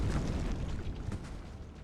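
Airstrike explosions in the strategy game Age of Wonders 4, a dense low rumbling boom sustained across the whole moment, loud and without talking.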